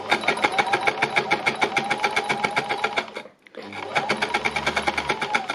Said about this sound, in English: And so the machine just basically, the needles go up and down, as I will show you